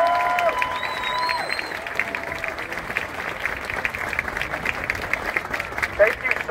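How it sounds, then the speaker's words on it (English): A crowd applauds after a Saline High School marching band demonstration in 2019, with sustained clapping, scattered cheers and whistles, and a murmur of voices beneath. "So let's give them another huge round of applause."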